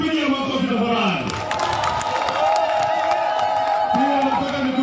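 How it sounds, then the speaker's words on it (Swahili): A large outdoor crowd at a political rally in Rabai, Kenya claps and cheers continuously, with whistles and shouts layered over a dense, steady roar. "Tupigie makofi tafadhali."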